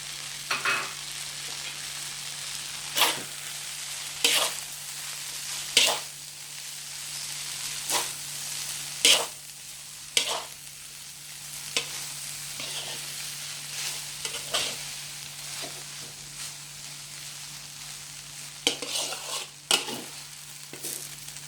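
Vegetable mihoon with carrot stir-fried in a pan: a steady sizzle, with sharp spatula scrapes and clinks recurring every second or two, close and clear, no voices.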